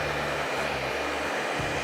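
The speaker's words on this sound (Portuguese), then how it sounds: "um secador bem quente" A hot hair dryer runs continuously while hair is styled for a quiff cut, a steady close whooshing roar with slight dips in its low hum as it moves.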